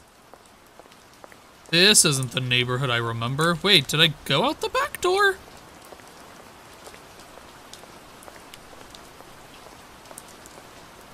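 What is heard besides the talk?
blood rain falling in a horror video game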